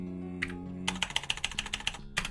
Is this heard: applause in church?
no